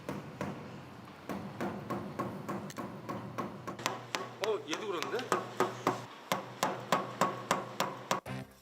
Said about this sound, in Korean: 망치로 하나하나 두드려 공기압이 빠진 타이어는 없는지 확인합니다.